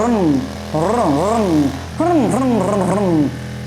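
A person imitates a motorbike engine with a rhythmic growling, revving voice in several bursts over a steady low hum.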